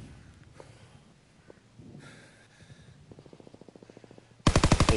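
LMG fire in a multiplayer shooter: after quiet breathing, a fast run of light shots builds into a loud, close, sustained automatic burst at the end.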